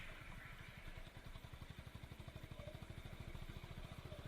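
A Honda Highness CB 350 motorcycle engine thumps steadily as the bike rides along at moderate speed in third gear, a rhythmic low putter over road rumble, during a rear brake test.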